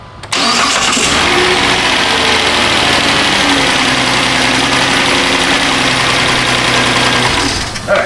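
A rich-running Chrysler Town & Country with a 4.0 engine cranks and catches quickly, then settles into a loud, steady idle heard up close with a low mechanical drone.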